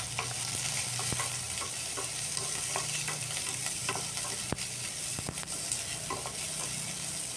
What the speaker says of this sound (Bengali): সব কিছু দিয়ে এটাকে খুব ভালো করে ভেজে নিচ্ছি